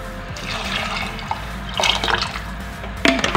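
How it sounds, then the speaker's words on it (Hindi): Water is poured from two glasses into a pot of chicken chana dal seasoned with salt, crushed red chillies and turmeric, giving a steady liquid splash and trickle with a louder surge near the end. "इसमें मैं डाल देती हूँ 2 ग्लास पानी,"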